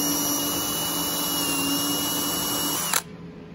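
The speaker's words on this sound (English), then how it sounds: "Make sure that drill bit's perfectly straight up and down when you're drilling." Power drill with a 15/64 brad-point bit boring straight down into an acoustic guitar neck, a steady close, loud whine holding for about three seconds before cutting off abruptly.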